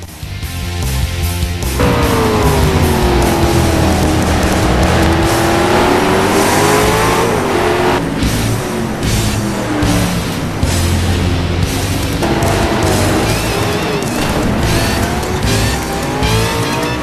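Onboard a 2008 V8 Supercar lapping Mallala Raceway in a racing game, the engine roars loudly and continuously, pitch climbing through gears with sharp gear-change breaks and some tire squeal, no talk.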